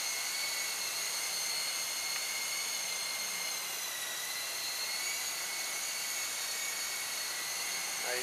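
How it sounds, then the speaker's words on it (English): A small Sea King model helicopter hovers with a steady high electric whine and rotor buzz while its winch lowers the hook, the drone holding constant and close throughout, no talking. "Alright, so winch down."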